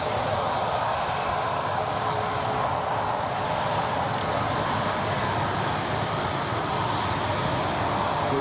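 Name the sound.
British Airways airliner on runway at Newcastle International Airport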